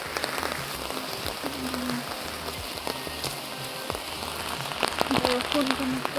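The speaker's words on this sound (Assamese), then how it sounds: "বৰষুণ কেনেকুৱা" Rain falls steadily on surfaces outdoors, a dense patter of drops with occasional sharper hits, heard alongside faint background voices.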